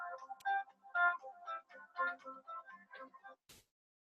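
A phone rings with an incoming call, giving a repeated chiming melody in short bursts about every half second. It sounds moderately close and clean, with no talking, and ends on a brief click as it stops.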